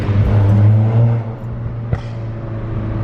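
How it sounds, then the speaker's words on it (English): A Honda car drives under a small bridge, giving a steady low engine drone and rumble with one brief sharp knock midway, no talk. "Here's a Honda going under a little bridge."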